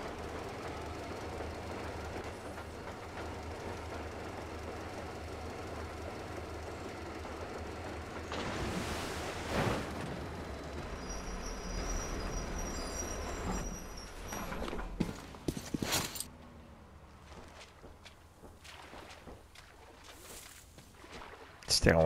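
A train rolls along rails in the video game Metro Exodus, a steady low rumble with rattling and clanks that swell midway, while someone talks intermittently over it.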